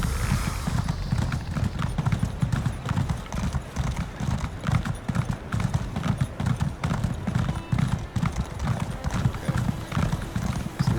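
Rhythmic clip-clop of horse hooves at a steady trot in the video game Elder Scrolls Online, close and continuous, with occasional faint voice in the background.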